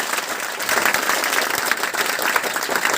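Senior students seated outside applaud, giving sustained crowd clapping that is steady and fairly loud across the whole stretch, with no distinct speech.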